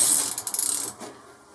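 A ratchet handle clicks in a quick run of about ten sharp ticks on a metal lathe set up for screw cutting, close and alone, followed by a soft mechanical hum.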